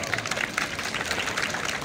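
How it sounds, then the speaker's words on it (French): Audience applauding at a school flag-raising ceremony in Ouakam, steady dense clapping from a crowd throughout, fairly distant and even, with a faint murmur of voices underneath. "On applaudit très fort."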